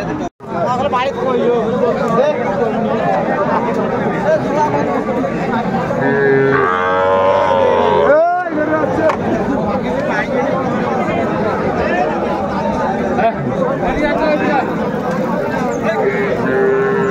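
Sahiwal cattle moo repeatedly amid a busy crowd of overlapping voices at a cattle sale, one drawn-out low call rising clearly above the chatter.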